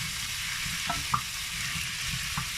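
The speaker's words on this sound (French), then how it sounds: "Et je vais rajouter mon ail. Et je remélange." Garlic being stirred into lardons frying in a pan, a steady hiss of sizzling fat with a few soft scrapes and taps of the spoon, close and without talk.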